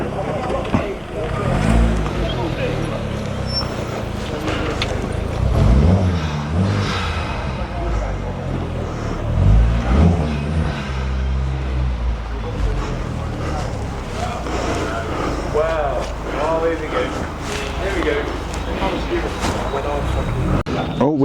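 Holden Monaro with a naturally aspirated 5.7 litre V8 at a car meet, revved several times in deep rising swells, nearby under crowd chatter and someone talking.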